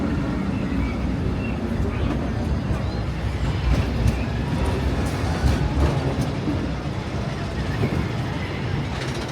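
The Disneyland Railroad train rolls along in a steady, continuous rumble with faint rhythmic clatter, heard loud and close from on board, with voices mixed into the background.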